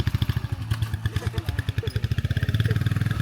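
A motorcycle engine on a mountain ride idles nearby with a rapid, throbbing putter that rises slightly toward the end.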